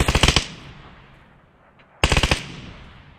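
Two bursts of rapid automatic gunfire in PUBG, each a tight string of about five loud shots, separated by a quiet gap of fading echo.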